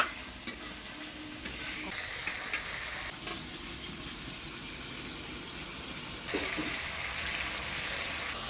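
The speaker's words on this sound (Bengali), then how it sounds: "অল্প জল দিয়ে দিলাম মশলাটা কষানোর জন্য" Spices for mocha ghonto, a banana-flower curry, sizzle and get stirred in tempering oil with a splash of water added, giving a steady close fry with scraping spatula strokes and a brief louder hiss near the end.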